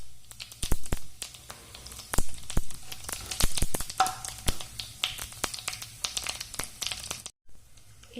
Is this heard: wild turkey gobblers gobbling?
no